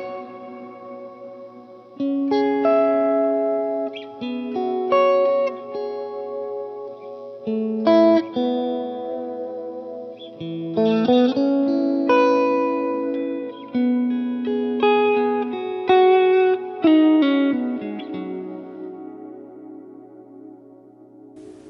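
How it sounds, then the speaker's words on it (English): Electric guitar notes and chords ring out one after another through a plate reverb, each trailing into a long, smooth reverb tail, loud and alone. "it's just a standard plate reverb"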